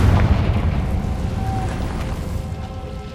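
A Confringo fire spell in Hogwarts Legacy blasts with a loud, deep boom at the start, followed by a rumbling tail that fades gradually.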